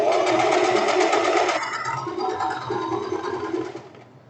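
An overlock serger runs steadily while stitching a hem on a silk tank top, a close, fast whirring buzz that shifts tone midway and then winds down to a stop.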